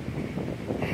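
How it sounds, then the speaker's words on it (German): Strong wind buffets the microphone outdoors, producing a continuous low rumbling roar with slight gusting swells and no speech. "Und dieser Wind, ey! Dieser Wind!"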